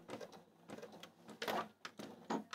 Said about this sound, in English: Into the corner, needle down, and I'm going to try and stop right on that seam line that I've already sewn